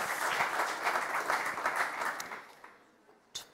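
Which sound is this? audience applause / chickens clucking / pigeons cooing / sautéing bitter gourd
audience applause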